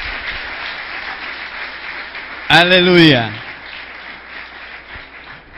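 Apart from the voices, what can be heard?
congregation applauding in church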